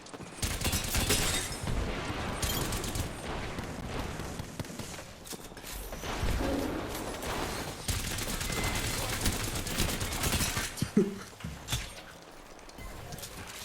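Knuckle cluster explosions in the Apex Legends shooter, a dense run of crackling, popping blasts and bursts that continue almost throughout, loud and close, with a sharper burst near the end.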